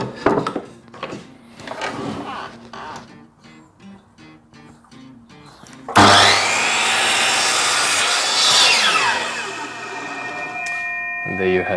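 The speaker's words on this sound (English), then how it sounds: "I need to move my miter saw to the other side of the 45." A miter saw set at 45 degrees cutting a piece for an indoor hydroponic herb system, a loud whining blade bite that starts abruptly and holds steady, preceded by quieter shuffling, clunks and brief talk.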